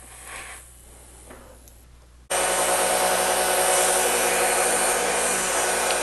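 A Dremel rotary tool grinds loudly and steadily on a grandfather clock door lock during a weld repair. It starts abruptly after a couple of seconds of quieter shop noise and runs without a break to the end.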